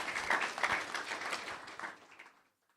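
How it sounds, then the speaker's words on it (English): Audience applause for a summer fisheries intern at a nature event, a dense burst of clapping that fades out after about two and a half seconds. "please embarrass her greatly by lots of applause"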